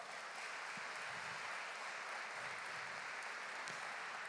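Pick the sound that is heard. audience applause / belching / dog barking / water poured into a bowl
audience applause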